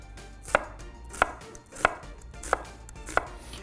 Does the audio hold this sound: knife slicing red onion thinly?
yes